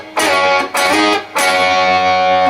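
Electric guitar lick from a solo, played with slides and strums: three loud, full distorted strums in close succession, each ringing out, no talking.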